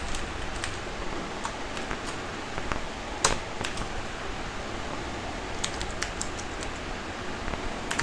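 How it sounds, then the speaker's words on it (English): Steady light tapping of computer keys, irregular clicks with a few sharper keystrokes, close and fairly quiet with no voices. "I'm typing some text."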